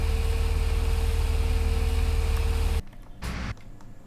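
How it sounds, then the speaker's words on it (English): A combine harvester engine in the video game Farming Simulator 17 runs with a steady low rumble, then cuts off abruptly near the end, leaving brief scattered mechanical sounds; no talking. "Combine's just finishing."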